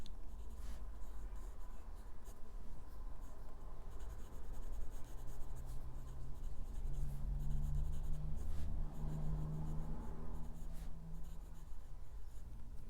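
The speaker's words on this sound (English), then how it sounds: "So let's do the writing sample." A Jinhao Centennial fountain pen with a medium nib writes on paper, giving a faint, steady scratching and rubbing of the nib, close and alone without talk.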